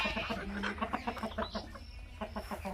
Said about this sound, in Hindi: ये सारे माशाल्लाह असील मुर्गे हैं।